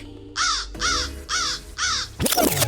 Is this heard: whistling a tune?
no